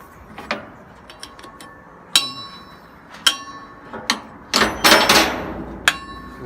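Sharp metallic hammer strikes ring out at irregular intervals while replacing the cable sling on a truck scale, some single and some in quick pairs, with a faint ringing tone lingering between blows.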